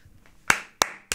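Three sharp, separate hand claps from a single person at close range, spaced about a third of a second apart against a quiet background.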